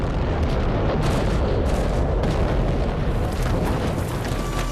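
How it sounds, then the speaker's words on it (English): World War I creeping artillery barrage, shells exploding just yards ahead of advancing troops in muddy terrain: a continuous, dense roar of blasts and rumbling booms, loud and unbroken, with no talking. "sticking as close as possible to the creeping barrage, exploding just yards ahead of them"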